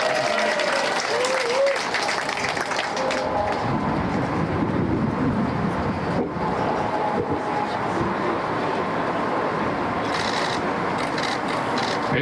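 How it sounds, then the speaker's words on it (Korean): An audience applauds at a memorial ceremony for General Paik Sun-yup on the second anniversary of his death, held to mark the Korean War. The clapping is loud, dense and unbroken from start to finish. "박수 한번 부탁드리겠습니다."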